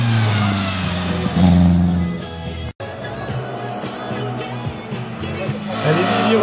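A Peugeot 206 race car at the Fréteval hill climb roars through a sequence of tight bends, its engine note rising and falling close by, with crowd noise and commentary over it.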